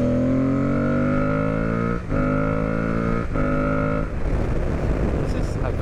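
Aprilia Tuareg 660 motorcycle ridden along a road out of Montreal, the engine note climbing steadily through gears with brief dips at shifts, loud and close alongside wind rush, while a rider talks over it.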